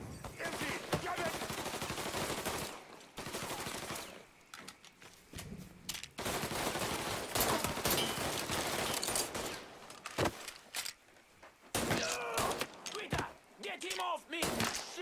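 Gunfire in the video game Mafia 3 comes as loud, rapid bursts and scattered single shots in clusters, with brief lulls between volleys and voices shouting over the shooting.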